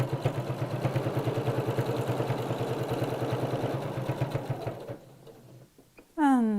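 A sewing machine runs a lock stitch on a vintage-style fabric pocket in a rapid, even mechanical chatter for about five seconds, then slows and stops. A short, faint voice follows at the end.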